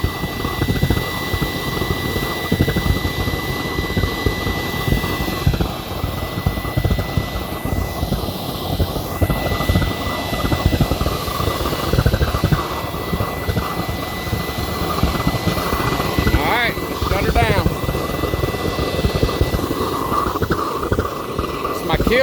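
Waste oil burner fed at half port roars with a dense, steady rumbling whoosh like a jet or furnace, loud and continuous throughout, with someone talking faintly over it.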